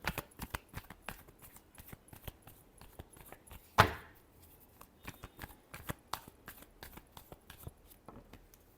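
Tarot cards being shuffled by hand, a quick series of soft riffling flicks and taps close by, with one louder slap partway through, no talking.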